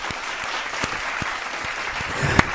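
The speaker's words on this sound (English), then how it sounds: "Let's get a round of applause for Marco here." A crowd applauds continuously and fairly loud, with individual claps audible through the steady wash. A brief sharp knock sounds near the end.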